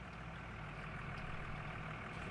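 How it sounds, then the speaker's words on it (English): A Lamborghini tractor in Farming Simulator 19 idles while an auger empties, a steady low engine drone that holds at an even level with no talk. "while this is emptying, you can hear the Lamborghini there"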